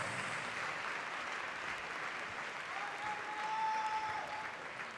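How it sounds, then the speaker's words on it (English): Ballroom audience applauding after an English style waltz at a professional championship semi-final, a dense, sustained wash of clapping that holds steady and swells slightly near the end, with a faint tone gliding beneath it. "And lots of applause, ladies and gentlemen."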